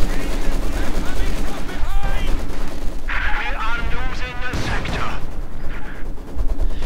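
Maxim machine gun fire in the World War II strategy game Company of Heroes 2, sustained bursts of automatic fire mixed with other battlefield gunfire and explosions, layered under a continuous commentator's voice.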